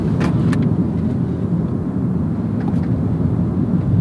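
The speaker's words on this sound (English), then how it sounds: "Throwing around a Prius Prime." A 2024 Toyota Prius Prime SE pushed hard on wet roads on low rolling resistance tires gives a steady loud drone of engine and road noise, with a couple of brief sharp hiss or squeal bursts early on.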